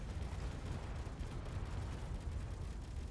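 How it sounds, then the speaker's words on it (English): Rockets fired in Space Engineers hit a target with a dense, steady roar of explosions and rumbling blasts that merge into one continuous, fairly quiet wash of noise. "Shoot the rockets into it."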